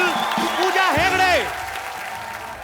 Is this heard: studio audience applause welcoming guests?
yes